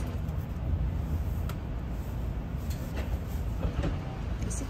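Aboard a Shinkansen bullet train in motion, a low, steady rumble and hum fill the cabin, with faint thumps and a few soft transient knocks over the continuous drone.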